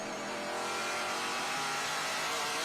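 Race car at Road Atlanta braking hard from about 182 mph, a continuous loud broadband roar of engine and rushing air with a hint of tire squeal, heard alone with no voices.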